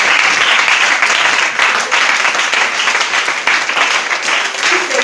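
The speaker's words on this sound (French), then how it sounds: "acclamations aux messagers." Audience applause in a hall for messengers, a loud, continuous clatter of many hands clapping with slight swells and dips, lasting about five seconds.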